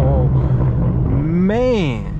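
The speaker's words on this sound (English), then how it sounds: "The aggressive downshift." Straight-piped BMW M4 F82 on a night drive through Los Angeles, its exhaust barking through an aggressive downshift with a rising, then falling rev blip that ends in a rasping roar, close and loud, while someone talks over it.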